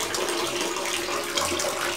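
Water pours from a bucket like a small shower into a tilapia fish pond beside a well, giving a steady close splashing trickle with no talk.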